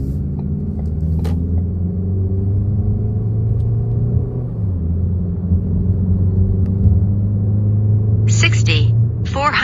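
Remapped Ford Focus 2.0 with a Powershift gearbox accelerating, a steady engine drone rising in pitch with one shift midway, heard from inside the car while people talk and a beep sounds near the end.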